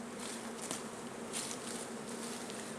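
A big swarm of honey bees buzzing in a dense, continuous hum, steady and fairly faint, with a few individual bees swelling louder as they pass close.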